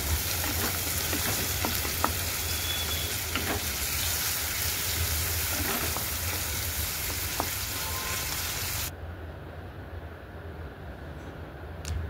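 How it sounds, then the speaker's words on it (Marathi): Chopped onion fries in a hot pan for a Manchurian dish, giving a dense, steady sizzle with occasional stirring clicks close by, until the sizzle suddenly drops away near the end. "कांदाही चांगला लालसर परतून घ्यायचा आहे."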